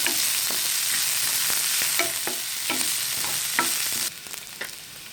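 Onion and garlic frying in a pan for a grated carrot stir-fry, with a steady close sizzle and repeated spoon scrapes stirring through it, no voices.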